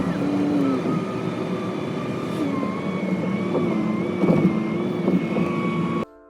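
Car cruising along a street, heard from inside as a steady engine and road drone with mild swells, cutting off abruptly at the end.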